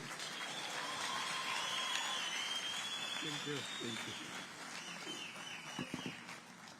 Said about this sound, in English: May a round of applause now ring out with glee.